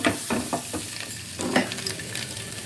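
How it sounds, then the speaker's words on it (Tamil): Boiled egg pieces being stirred into Mughlai egg gravy in a pan, a close sizzle with several quick spoon scrapes and taps in a short burst, with no voice. "நல்லா கலந்து விட்டுக்குங்க"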